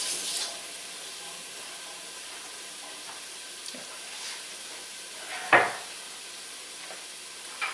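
Chipotle peppers in adobo sauce are stirred through a sizzling pan for refried beans, giving a steady soft hiss broken by a few light spoon scrapes and one sharper clatter midway.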